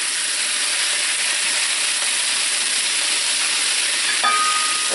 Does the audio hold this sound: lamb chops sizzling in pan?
yes